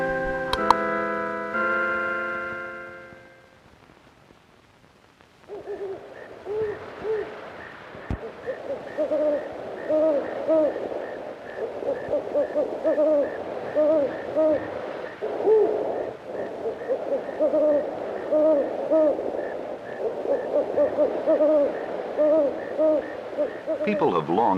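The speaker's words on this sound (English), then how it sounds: "here's a film about owls" Owls hoot repeatedly through most of the stretch in a nature film, a steady run of low, soft calls with a faint ticking alongside, following a brief tonal chord at the start and a short quiet gap.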